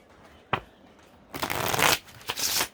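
Tarot cards being shuffled by hand: a single sharp snap, then a longer riffling burst followed by two shorter shuffles, close and clear in a quiet room.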